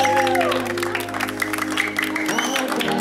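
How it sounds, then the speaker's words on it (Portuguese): Guests applauding at an 18th birthday celebration, a short burst of crowd clapping mixed with music playing and some voices, moderately loud throughout. "Pode bater palmas que a nossa homenageada merece, merece mesmo"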